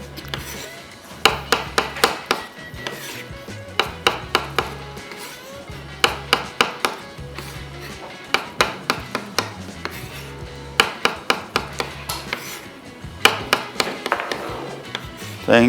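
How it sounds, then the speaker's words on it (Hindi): A knife slicing mushrooms on a cutting board, with crisp repeated taps in quick runs of several strokes and short pauses between runs, close and clear, with faint talk now and then. "सो मशरूम सबसे पहले स्लाइस"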